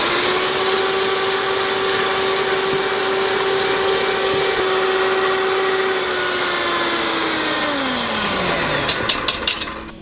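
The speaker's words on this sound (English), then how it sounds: "This is when you wanna turn your beaters on high and start gradually adding your sugar" Electric hand beaters run on high, whipping eggs and sugar for a sponge cake batter, a steady close whirring drone that holds for several seconds, then winds down as the motor slows, ending in a few quick taps.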